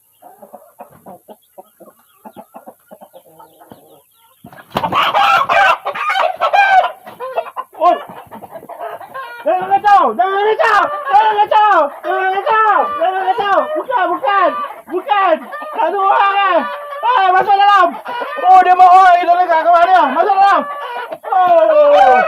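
Rhode Island White chickens clucking loudly and steadily in a close group, with repeated harmonic calls and squawks after a quieter opening, while someone talks over them.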